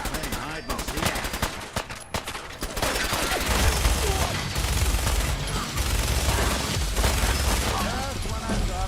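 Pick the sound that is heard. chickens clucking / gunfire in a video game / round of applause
gunfire in a video game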